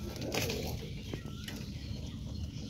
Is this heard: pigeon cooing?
yes